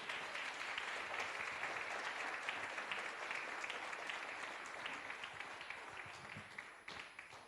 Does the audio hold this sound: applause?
yes